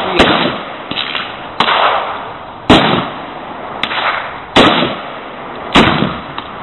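Five sharp, loud reports from a .50 Smith carbine, spaced a second or so apart, each a hard crack with a short decaying tail outdoors, and no talking in between.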